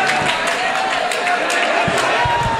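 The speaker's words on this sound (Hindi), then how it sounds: "जोरदार तालियों से इस्तकबाल करें" Applause from the crowd at a mushaira in Dhule greets a poet: a loud, steady wash of clapping and crowd noise, with speech mixed in.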